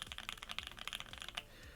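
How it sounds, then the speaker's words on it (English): Fingers tap rapidly on a mechanical keyboard fitted with BOX Jade switches, a quick run of crisp, clicky keystrokes close up that stops after about a second and a half. "and just typing like this"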